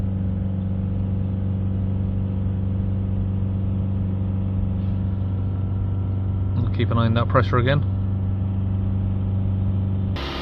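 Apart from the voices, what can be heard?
Mitsubishi Outlander engine held at 3000 RPM during DPF regeneration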